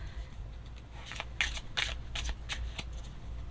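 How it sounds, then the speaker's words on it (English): Oracle cards being shuffled in a series of quick riffling bursts, close up, with brief pauses between them and no talking. "once I feel like I've shuffled enough, then I cut the deck in half"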